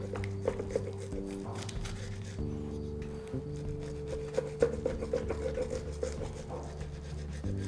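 A serrated knife saws through a crispy potato pancake layered with gouda and ham, giving soft, repeated rasping strokes that stay faint beneath steady background music.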